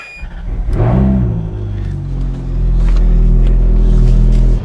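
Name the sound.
Ferrari F430 engine starting up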